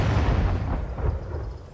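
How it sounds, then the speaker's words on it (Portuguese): Cannon fire from both sides in a Napoleonic-era siege of Almeida: a loud, deep rumbling boom that rolls and fades over a couple of seconds, with no voices over it. "Os canhões de um e outro lado descarregam toda a sua fúria"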